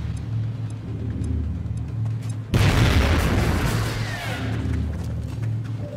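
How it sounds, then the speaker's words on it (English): A grenade explodes in the turn-based strategy game XCOM: Enemy Within, a sudden loud boom after a low steady hum, its rumbling decay trailing off over several seconds with no talk. "Throwing grenade!"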